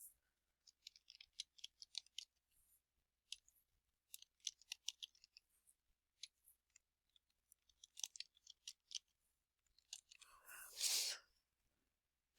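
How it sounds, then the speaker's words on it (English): A computer keyboard is typed on in scattered, sharp clicks, single keystrokes and short bursts spread over a near-silent background, ending in a brief soft breathy noise. "so now I've just typed in the words I want in my label"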